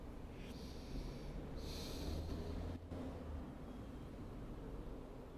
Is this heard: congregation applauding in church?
no